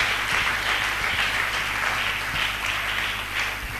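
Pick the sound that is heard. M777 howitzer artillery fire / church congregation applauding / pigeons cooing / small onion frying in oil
church congregation applauding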